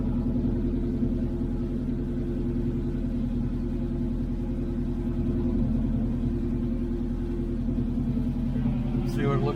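A 1934 Buick's engine rumbles steadily at low pitch while cruising, a constant loud drone throughout with a voice talking over it.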